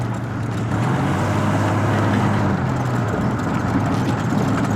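An old Chevrolet S10 pickup engine hums steadily with road and wind noise, a continuous low drone while driving, with no talking.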